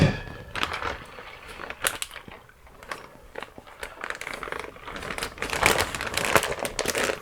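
Close, busy crinkling and rustling of a plastic zipper bag being handled and squeezed, in irregular bursts throughout with no talking.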